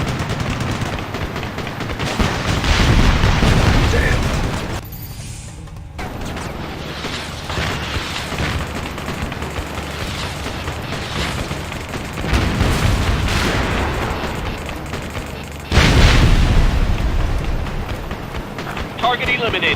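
Gunfire and explosions roar from the video game Ace Combat Assault Horizon, with heavy booming bursts and rattling fire that swell and fade under radio-style voices talking.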